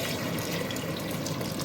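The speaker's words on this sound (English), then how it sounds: "At this stage I will be adding in water from the meats" Water from cooked meats pours steadily into a pot of jollof rice, a continuous close splashing gush with no pauses.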